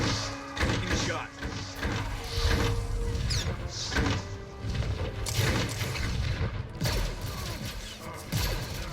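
Blaster gunfire in Star Wars: The Old Republic during a Republic Trooper mission on Alderaan, with repeated shots and booms over a busy mechanical game soundscape, and a voice speaking intermittently underneath.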